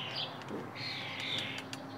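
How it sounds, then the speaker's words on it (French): Birds, turtle doves or starlings, call from high in a cherry tree, with several short chirps and a longer whistled note, fairly faint and outdoors, no talk. "Et les tourterelles. Je ne sais pas si c'est des étourneaux."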